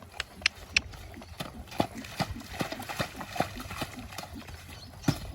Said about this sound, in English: a lot of the horses are galloping around at the moment and neighing